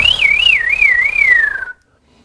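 A person whistles an imitation of a veery thrush's descending spiral song: one loud, close, wavering whistled phrase that spirals downward in pitch and then stops, leaving near silence.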